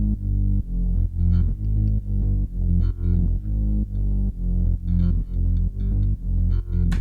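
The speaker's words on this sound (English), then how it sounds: "In addition to that, we have the bass, which sounds like this." Bass line in an electronic track, synth bass doubled by bass guitar, a loud rhythmic low-end pattern of steady repeated notes with brief gaps, playing alone without voices.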